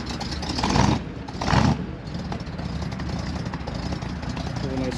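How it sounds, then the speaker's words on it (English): A 1956 Buick Special Riviera with its original 322 V8 idles with a throaty exhaust note, a steady low rumble that swells twice early on before settling into an even drone. "Has a nice throaty exhaust note."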